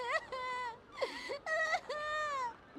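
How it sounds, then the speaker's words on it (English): A child cries in the video game Radiata Stories, a series of high, wavering wails and whimpers in short sobbing bursts, fairly close and clear with no talk over it. "There's a child crying somewhere."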